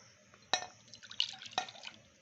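More water is added to a pot of yellow bean stew in a couple of splashy pours with drips, fairly close and faint.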